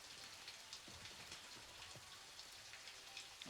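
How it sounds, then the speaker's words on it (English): Steady rain pattering on surfaces in the military shooter game Gray Zone Warfare, a constant dense hiss with scattered droplet ticks, fairly quiet and continuous with no talking. "Okay, it's raining."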